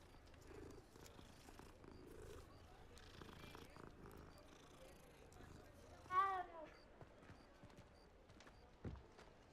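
A cat purring after being petted in Hogwarts Legacy, a soft low rumble under game ambience and some talk, with a brief louder chirp midway.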